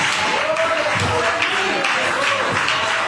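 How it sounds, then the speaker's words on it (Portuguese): A church congregation applauds during a worship service, a steady wash of clapping that runs throughout under loud voices talking over it. "As palmas para o Senhor Jesus"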